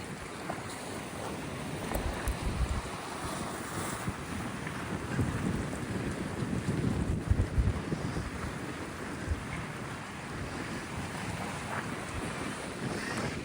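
Sea water washing over a stone floor with the falling tide at Bridlington harbour, a steady soft rushing and splashing with wind buffeting the microphone throughout.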